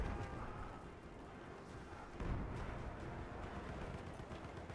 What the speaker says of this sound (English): Not another grenade.